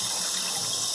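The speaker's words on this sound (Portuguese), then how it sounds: "aí a torneira faz aquele barulho que enche o saco" A household faucet being slowly closed gives off a loud, steady hiss of rushing water with a harsh, noisy edge, continuous and close throughout.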